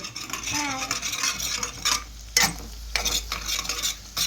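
Egg rice mixture stirred and fried in a pan over a high flame, a steady loud sizzle with repeated scraping and clinking of the spatula against the pan, no voices.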